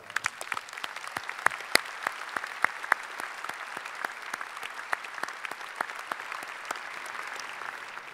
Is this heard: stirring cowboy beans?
no